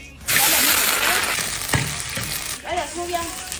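Soybean oil sizzles loudly in a hot pan while cooking spicy braised beef hooves, a steady frying hiss starting abruptly and continuing throughout, with a brief clatter midway and a faint voice near the end.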